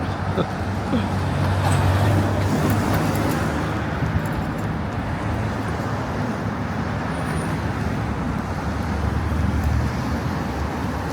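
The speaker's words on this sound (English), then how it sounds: "So plenty of traffic" Steady road traffic rolling past along a seaside promenade, a continuous broad rumble of passing cars and buses with wind, fairly loud and unbroken throughout.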